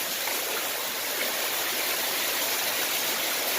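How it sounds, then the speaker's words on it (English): Water pours steadily through a filter sock into a DIY pond filtration setup, a continuous close splashing rush that holds unbroken throughout. "It's cut at the bottom, but see the water coming through?"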